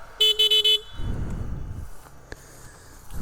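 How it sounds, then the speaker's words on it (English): A vehicle horn honks three quick times in a row, loud and close, on a rugged off-road trail at Hatfield-McCoy, followed by low rumbling wind or engine noise. "Honk your horn."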